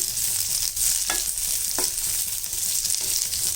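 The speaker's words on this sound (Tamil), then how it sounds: "இதிலே ஒரு மீடியம் சைஸு வெங்காயம் போட்டுக்கலாம் இது வதங்கட்டும்" A medium onion sautéing in a pan with fennel, cinnamon and cloves for Chettinad chicken curry gives a loud, even sizzle throughout, broken by a couple of brief scrapes of a stirring spoon.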